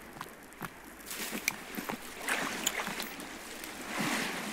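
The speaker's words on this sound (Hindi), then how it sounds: "रुक जाओ, मैं पानी पी के आता हूँ।" A character drinks water from a forest stream in the survival video game Sons of the Forest: gentle splashing and sloshing, soft and close, mixed with light footstep-like taps and no talking.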